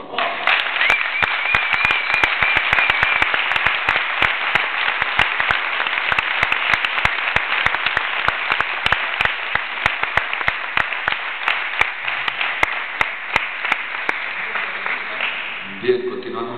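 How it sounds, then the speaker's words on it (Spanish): A gathered audience at a talk about Horta de Sant Joan applauds in a long, dense, sustained round, with voices mixed into the clapping and a slight fade near the end. "Un aplauso, por favor"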